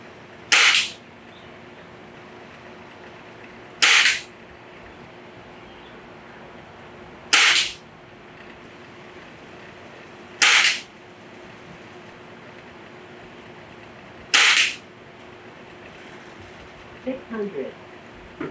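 Five sharp shots from a Gamo Gen3i air rifle fired in a backyard, each a crisp snap spaced about three to four seconds apart, loud and close over a steady low background hiss.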